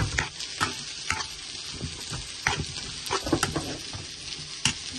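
Masala spices fry in a pan for egg bhuna, a steady sizzle broken by repeated scraping stir strokes of a spoon, close and fairly loud, with no talking.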